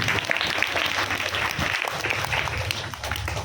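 A church congregation claps steadily and densely at a Christmas celebration, a continuous bright wash of many hands lasting throughout at an even, fairly loud level.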